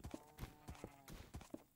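Hooves of a horse in the video game Minecraft (one block) clop in a quick, uneven rhythm, several soft thuds in a row, faint and close with nothing else around them.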